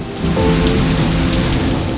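Steady, dense rain pours down continuously, a close and even hiss with no voices over it.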